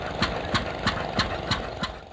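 An antique engine at a threshing bee engine show in Vista chugs steadily with evenly spaced thumping beats, about three per second, fairly loud and close with no talking.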